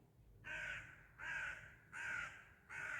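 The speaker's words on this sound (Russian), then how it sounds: "что это за кар у меня летает?" A crow caws four times in a steady rhythm, each call harsh and drawn out, heard from a moderate distance over a quiet rural garden background.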